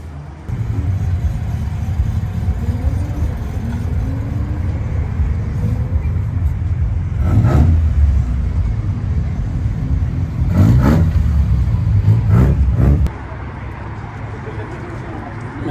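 A Toyota Trueno engine runs at a Japanese car show in Los Angeles, a low steady idle with a few short rises in level, heard close under the crowd and outdoor chatter.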